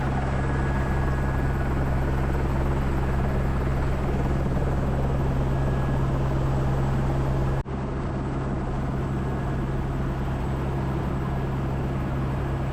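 Helicopter rotor blades thump and roar continuously inside the cabin during a Hawaii tour flight, a loud, steady droning hum with a low pulsing beat that barely changes throughout, heard close and without talk.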